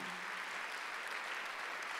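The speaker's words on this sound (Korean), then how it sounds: "박수 하나 주세요" Congregation applause in a church during a Sunday worship service, a steady wash of many hands clapping at moderate volume throughout with no voices over it.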